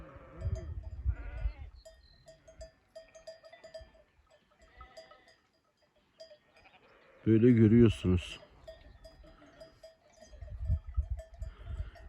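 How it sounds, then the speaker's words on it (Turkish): A herd of wild female goats with their kids in the Nurhak mountains during a storm, giving a loud, close bleat around the middle, with quieter calls scattered among a man's speech. "Yaban keçileri, yavrular da var."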